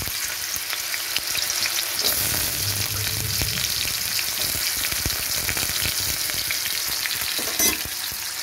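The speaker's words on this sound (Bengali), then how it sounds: "তেলটা ভালো গরম হয়ে গেছে, এবার আমি আলুটা দিয়ে দিচ্ছি।" Potatoes drop into hot oil in a wok and fry with a steady, close sizzle that swells as they hit the pan, with stirring scrapes and clinks throughout and no talking.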